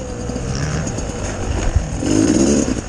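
An enduro motorcycle engine buzzes nearby in winter, its pitch rising and falling with throttle changes, getting louder toward the end.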